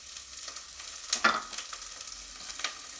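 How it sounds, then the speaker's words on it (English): Onions, garlic and caraway seeds hitting olive oil in a pot, a quiet, brief sizzle with a few soft stirring scrapes and clicks, close by and without talk. "in goes the olive oil, the onions, the garlic, caraway seeds"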